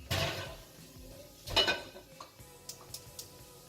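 Pots and pans clatter in a home kitchen while fried rice is prepared, with a few loud clanks followed by lighter scattered clinks and taps at close range, with no talking.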